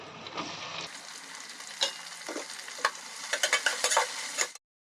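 Onions and tomatoes fry and sizzle in a pan for sweet corn biryani, with a steady hiss broken by several sharp scraping stirs toward the end; no one speaks.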